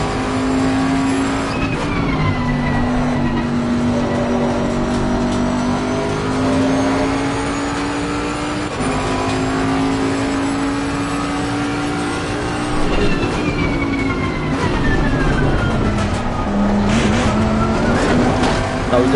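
A race car engine in Assetto Corsa Competizione at Zolder drones loudly and continuously, rising and dipping in pitch through gear changes and throttle lifts as the car laps the circuit.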